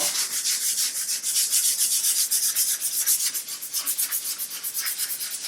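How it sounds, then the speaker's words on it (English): Light, rhythmic scratching of sandpaper rubbing back and forth over painted detail on a wooden dresser, quick repeated strokes, close and fairly soft. "I'm just going to very lightly rub over the painted detail."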